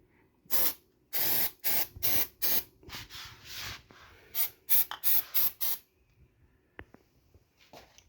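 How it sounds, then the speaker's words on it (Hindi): A mosquito spray can hisses into a room corner in a series of short, sharp bursts, several quick puffs in a row with brief pauses between them, close and loud. "और अब आप इसके कोने पे भी स्प्रे करेंगे।"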